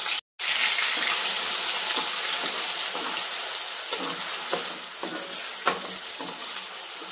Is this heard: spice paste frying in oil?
yes